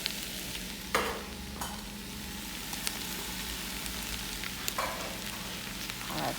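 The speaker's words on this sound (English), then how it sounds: "We are now gonna add in our garlic and our ginger" Garlic and ginger sauté with softened onions in a hot pan, giving a continuous soft sizzle broken by a few brief scraping stirs of a utensil.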